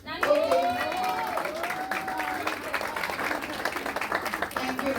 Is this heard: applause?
yes